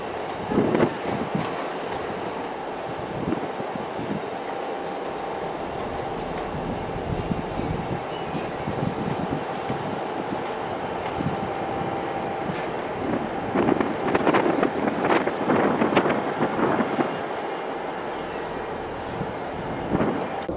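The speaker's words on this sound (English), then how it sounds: "39124 with the 12:52 Avanti West Coast service to London Euston via Preston and Birmingham New Street" Avanti West Coast locomotive 39124 departs Edinburgh Waverley on the service to London Euston, rumbling and clattering over the rails with bursts of wheel squeal and rattling that grow louder partway through.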